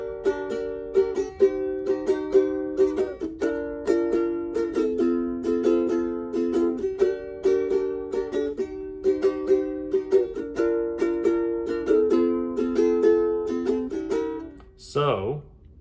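Ukulele strummed in the repeating chorus pattern of a song: bright, even down-up strokes cycling through chords, close and clear, with a short vocal sound at the very end.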